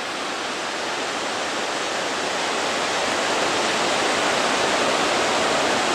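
A waterfall beside a river on a hiking trail, a loud broad continuous roar that holds steady and builds slightly as it gets closer.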